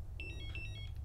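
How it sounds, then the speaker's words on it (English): An electronic fishing bite alarm gives a rapid burst of high, repeated bleeps, faint against a low background rumble. "when you get a take it actually kicks the alarm into play"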